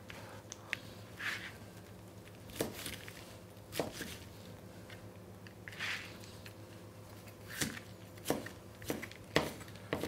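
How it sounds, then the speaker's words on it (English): A knife cuts through bacon on a board, giving a series of soft squishy slices and sharp taps spaced unevenly across the span, close and quiet with no one talking. "Let's cut the bacon up."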